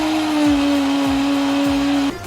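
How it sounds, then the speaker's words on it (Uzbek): A blender whirs at high speed, chopping fresh green herbs with half a glass of water for a herb palov, giving a loud steady motor whine with rhythmic dips before it abruptly cuts off near the end. "Ko'kni blenderga sovoramiz"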